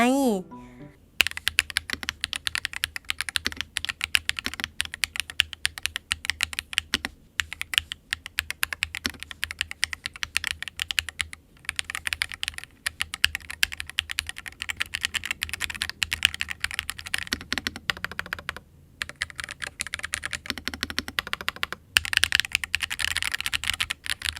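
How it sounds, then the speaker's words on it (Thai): Fast, continuous clicking of keys on a Carotmas Mercury 68 Hall effect mechanical keyboard, close and crisp, with a short voice heard at the very start. "ก็จะประมาณนี้เลยค่ะ สำหรับเสียงของคีย์บอร์ด"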